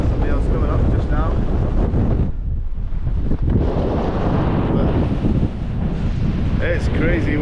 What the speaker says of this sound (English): But it's crazy windy up here.